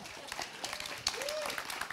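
Short burst of audience applause at a digital business conference, fairly faint and scattered, lasting about two seconds with a brief tonal squeak in the middle.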